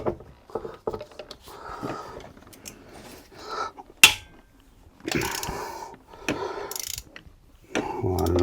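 A ratchet wrench loosening the cylinder head bolts on a Hemi engine, quick bursts of clicking pawl strokes separated by pauses and clanks of tools, close and fairly quiet.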